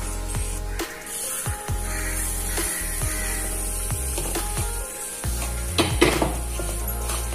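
Semolina (rava) fries in melted ghee in a kadai while a spoon stirs it, giving a steady, loud hiss with a low hum underneath and regular metallic scraping strokes against the pan.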